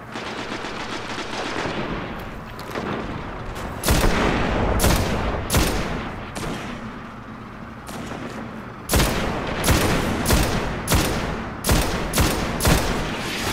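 Gunfire from a sniper in the sci-fi shooter Destiny, with repeated loud, sharp shots and booming reports at irregular intervals over a continuous rumbling battle backdrop.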